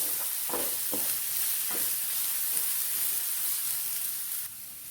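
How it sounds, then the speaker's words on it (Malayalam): Crushed thoran spice paste sizzles softly in a hot pan while being sautéed, a steady frying hiss with a few scraping stirs near the start and no talking. "നല്ലപോലെ ഒന്ന് വഴറ്റിയെടുക്കാം."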